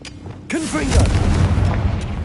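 Confringo blasting spell fired in Hogwarts Legacy on PS5: a deep, booming burst lands at once and rolls into a loud, rumbling explosion that carries on for about two seconds, with whooshing magical swirls above it.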